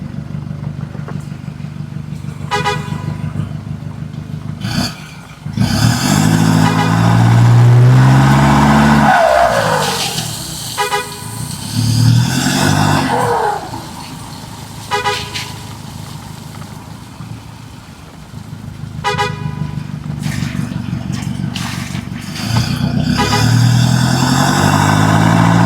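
A truck grinding along a muddy dirt road through forest, engine droning steadily with surging revs, clattering and sloshing, continuous and close without speech.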